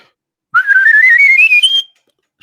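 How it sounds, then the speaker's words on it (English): A 60-year-old man whistles a single sustained note that glides steadily upward, clear and close, for about a second and a half before falling silent, then briefly starts again. "I just have fun whistling"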